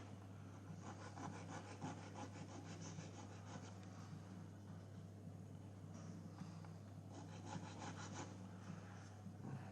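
Wood on a model Cheng Ho junk is rubbed down with sandpaper, a faint, steady scratchy friction in repeated back-and-forth passes over a constant low hum.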